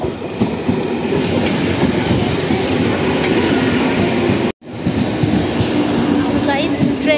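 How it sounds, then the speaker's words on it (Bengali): A train pulling into a station, loud and close, with steady rumbling, clickety-clack of wheels and faint wheel squeal, briefly cut by a short gap. "ট্রেন চলে এসছে, এবার আমি ট্রেনে উঠে পড়বো।"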